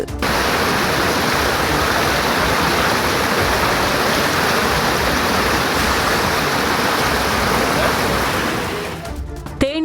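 Floodwater surges through a canal after heavy northeast monsoon rain, lapping at a low causeway: a loud, steady, close roar of rushing water that fills the whole stretch and thins out just at the end.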